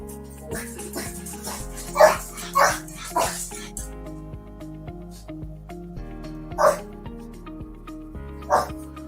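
Dogs bark in short, scattered yaps and whimpers indoors, while a voice talks and soft background music plays.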